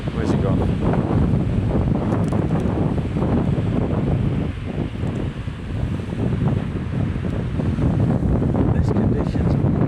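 Strong 35 mph wind buffets the microphone during a fishing session, a constant loud roar with rumbling gusts and a wash like surf, steady throughout.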